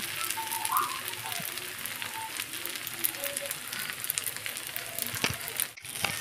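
Dosa batter made with fresh coconut sizzles on a hot pan, a steady close crackling hiss that continues throughout with small pops and light scraping, no voices.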